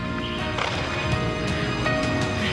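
A horse clip-clops steadily with busy hoof clatter and some snorting or whinnying close by, with no voices over it.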